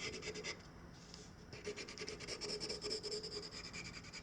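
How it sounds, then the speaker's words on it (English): A pencil rubs back and forth along traced lines on paper, a soft close scratchy rasp in short repeated strokes, faint and continuous. "what I'm doing is I'm just kind of rubbing on the line"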